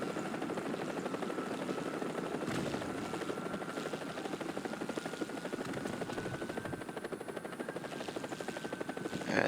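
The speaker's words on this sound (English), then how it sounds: "Yeah, there's that Huey." Huey helicopter in the War Thunder video game, a continuous rapid rotor chop with a steady engine whine, moderately loud and unbroken, with no talk over it.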